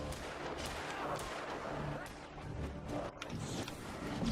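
Dense gunfire from the Alan Wake video game on Xbox 360, repeated loud shots and blasts layered over game noise, with voices talking over the action.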